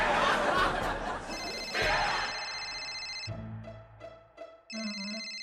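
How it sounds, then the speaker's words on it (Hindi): A phone ringtone plays in a Hindi TV comedy drama household, an electronic melodic ring with bright repeating tones that follows a burst of louder noise, with brief gaps as the tune cycles. "तुम फोन क्यों नहीं उठाते? कक्कू का फोन है, उठाओ ना।"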